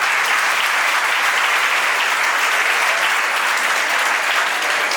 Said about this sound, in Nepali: एकपटक गरगरा हातमा जोरदार ताली